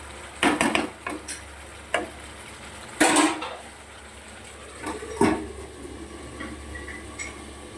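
Potatoes and spices sautéing in a covered pan over low gas, a soft steady sizzle broken by several sharp clinks and scrapes of a utensil against the pan.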